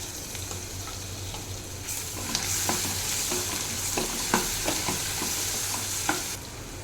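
Turmeric and ginger garlic paste fry in hot oil with a continuous crackling sizzle, punctuated by a few sharp spoon knocks and stirring scrapes, close and steady without talk.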